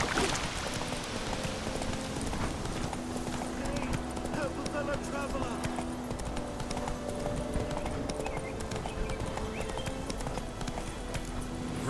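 Roach the horse gallops in The Witcher 3, hooves clip-clopping in a steady rapid rhythm beneath continuous voices and background game ambience.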